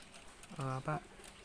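Two soft, close pigeon coos, one longer and one shorter in quick succession, from a pigeon being hand-fed peanuts in a quiet setting.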